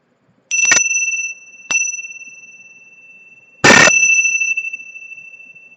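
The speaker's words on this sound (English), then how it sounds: "those bells are for you" Bells struck during a tarot reading sound three clear metallic strikes: two close together, then a louder one a few seconds later, each leaving a long shimmering ring that fades slowly, with no talking.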